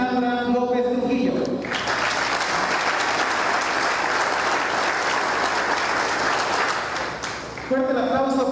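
A crowd applauds loudly for several seconds at a formal swearing-in ceremony session, with steady clapping between stretches of amplified speech.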